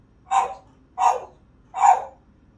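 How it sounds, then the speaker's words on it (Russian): A dog barks three times at an even, unhurried pace, each bark short, close and clear against a quiet room. "Собака."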